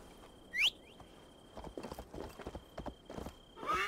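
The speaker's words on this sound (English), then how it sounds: "Can I not call my horse?" Horse hooves clip-clop on the ground in Assassin's Creed Valhalla, a loose run of close steps after a brief high cry, with faint bird chirps in the game ambience and no talk.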